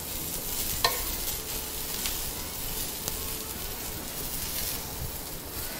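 Loofah sizzles steadily in a hot pan, a soft continuous frying hiss with a few faint clicks, no talking.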